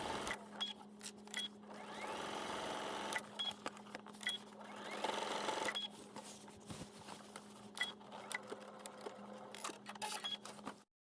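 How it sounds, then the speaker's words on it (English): A sewing machine top stitches a front pocket opening edge, a quiet rapid mechanical chatter running in bursts with brief pauses and soft clicks between runs. "top stitch the front pocket opening edge, squaring the stitching at the large dots"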